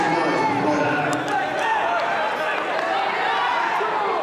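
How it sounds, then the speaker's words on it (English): Crowd noise rising at a high school wrestling match, a steady loud roar of voices and cheering throughout, with excited shouting building under the din. "Crowd starting to get into it."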